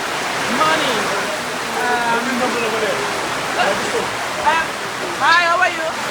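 Heavy rain pours down outdoors at a truckers' protest blockade at a pit entrance in Pond Casse, Dominica, a steady dense wash of noise under voices talking throughout.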